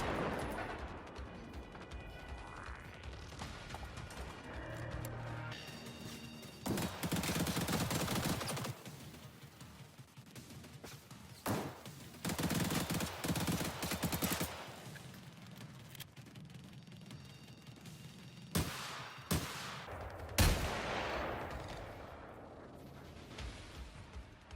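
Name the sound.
hunter robot machine gun fire in video game Generation Zero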